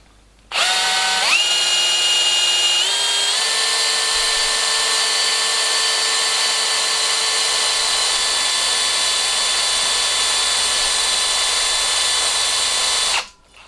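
A power drill bores a 3.3 mm hole, running as a loud, steady high whine for about twelve seconds after a brief spin-up, with no voices over it.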